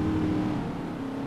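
A car in GTA IV starting to drive off, its engine giving a steady, close, humming drone with a faint tonal whine, held evenly through a short stretch with no voices.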